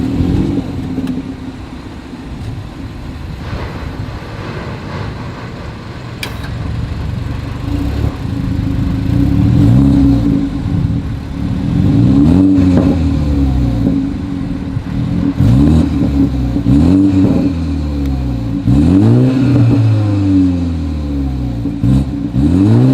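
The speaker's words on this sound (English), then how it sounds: "As always, here is that exhaust clip" BMW 330i with dual exhaust, engine idling then revved repeatedly in sharp rising-and-falling bursts, loud and close, the pulses growing more frequent toward the end with no talk.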